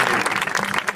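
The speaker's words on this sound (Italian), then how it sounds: "un applauso" A brief, loud burst of audience applause at a Le vie del Cinema event in Narni, many hands clapping densely for about a second.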